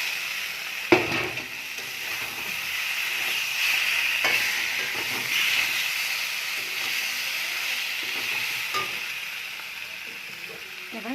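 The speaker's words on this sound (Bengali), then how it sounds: "এবার মাছটা দিয়ে দিচ্ছি।" Fish pieces fry in a hot chili, turmeric and cumin masala for an Indian curry, a constant close sizzle and hiss with occasional stirring knocks and clatter.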